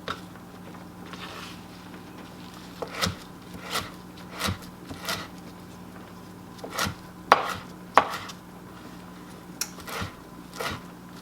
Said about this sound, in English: I kind of just give it a rough chop.